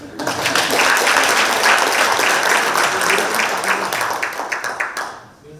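A room of attendees at a regional council meeting of Ulsan, Pohang and Gyeongju bursts into loud, sustained applause, dense clapping that holds for several seconds, thins into scattered claps, then stops.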